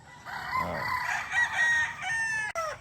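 A rooster crows loudly and close by, one long drawn-out cock-a-doodle-doo that rises and trails off, with faint clucking around it.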